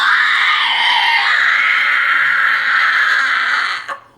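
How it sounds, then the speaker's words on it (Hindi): A crane from an animated children's story screams while a crab grips its neck: one long, loud, piercing shriek that wavers in pitch, then cuts off sharply. "क्रेन चिल्लाने लगा"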